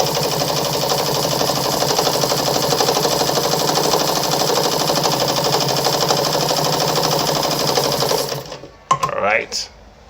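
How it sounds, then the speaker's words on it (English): A Meister Werke sewing machine runs a close, short-length zigzag stitch in one steady, loud mechanical whir for about eight seconds, then stops abruptly, leaving a few brief clicks. "so I'm gonna sew through the zigzag now"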